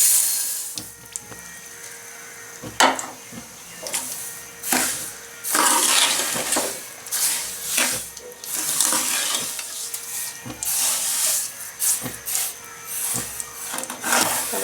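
Half a kilo of sugar stirred with a spoon in hot ghee for suji halwa, a loud hissing sizzle with frequent sharp spoon clacks and scrapes against the pan throughout.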